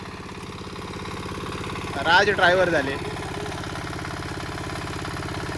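A tractor engine idles steadily in a muddy paddy field during transplanting, a low continuous drone throughout, with a person speaking briefly over it midway.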